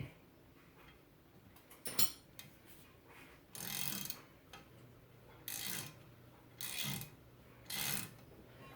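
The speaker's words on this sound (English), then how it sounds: "you're going to remove that retaining bolt in the bottom" Ratchet work on the brake rotor retaining bolt of a 2004 BMW 325xi front brake, short bursts of clicking ratchet strokes spaced a second or so apart, close and moderately loud over quiet garage background.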